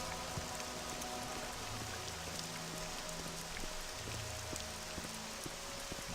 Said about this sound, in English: We'll just wait till we're in the tunnel, out of the rain.